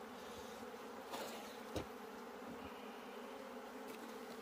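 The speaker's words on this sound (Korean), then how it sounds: "동양종 꿀벌." A steady, continuous buzzing drone of Asian honeybees (Apis cerana) at an apiary during a hive transfer, moderately close, with a couple of faint knocks.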